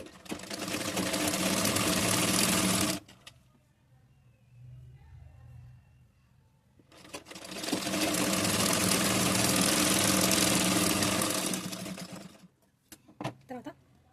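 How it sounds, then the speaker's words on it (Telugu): A sewing machine stitches a blouse sleeve in two long loud bursts of rapid whirring, separated by a quiet pause with faint handling, then a few short ticks at the end. "ఒక పట్టీలాగా స్టిచ్ చేసుకుందాము. వెడల్పుగా హ్యాండ్కి పట్టి కుట్టుకుందాము."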